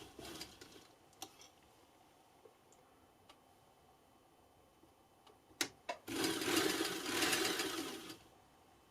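A sewing machine stitches a fabric head wrap, with scattered faint clicks and ticks first, then a few seconds of steady, close mechanical whirring near the end.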